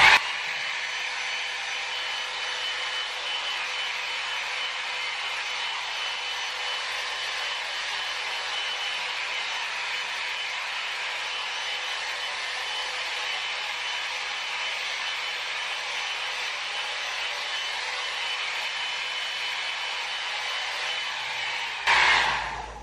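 A hot air brush dries pixie cut hair with a steady, continuous blowing whir that holds close and constant for about twenty seconds, then cuts off abruptly at the end.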